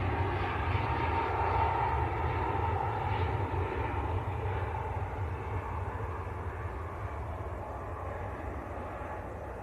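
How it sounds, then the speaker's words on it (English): A brand new airliner, delivered only a month earlier, rumbles past at Manchester Airport, its engine roar loud and steady throughout the passage and slowly easing toward the end, with no voices over it. "Now this is a brand new aircraft, only delivered last month."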